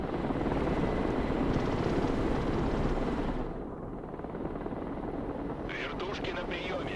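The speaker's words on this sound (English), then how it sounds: "Вертушки на приеме." Helicopters flying in during a Broken Arrow military video game mission: a continuous rotor and engine drone that is loud at first, then drops a little and carries on at a lower level, with a faint whine rising near the end.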